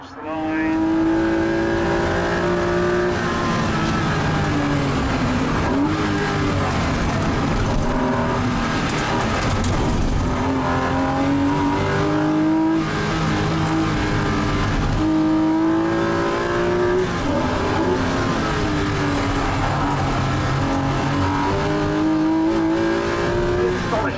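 Classic Porsche race cars at full throttle around the Oulton Park circuit, engines roaring and revving continuously through gear changes as they pass, loud throughout with a commentator talking over the din.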